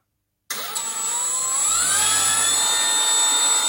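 A brushless motor driven through an ESC spins up a propeller, starting abruptly from silence with a rising whine and high tonal whir that settles into a steady, loud hum.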